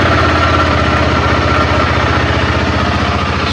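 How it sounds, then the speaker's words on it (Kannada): A KTM Adventure 390 motorcycle idles cold on its stock exhaust, a steady close, loud low-pitched thrum with a fine pulsing beat and no pauses. "ಸೊ ಇವಾಗ ಎಕ್ಸಾಸ್ಟ್ ಸೌಂಡ್ ಕೇಳಿಸ್ಕೊಳ್ಳೋಣ"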